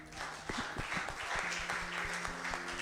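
A church congregation claps together in praise, a dense, steady patter of many hands heard at moderate distance and fairly soft, with a faint voice underneath.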